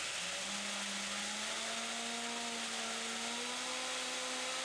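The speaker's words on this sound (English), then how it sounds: "this time I'm using a corded drill, which provides a lot more power than the battery power drill" A corded power drill spinning a 3D-printed gearbox whirs steadily at high speed, its pitch slowly climbing as it spins, loud and close with no talking.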